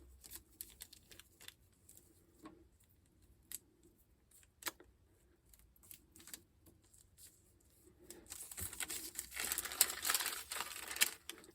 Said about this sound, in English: And cut my template again.